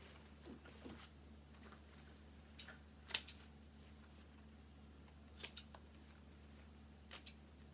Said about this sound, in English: A little sniffy snip.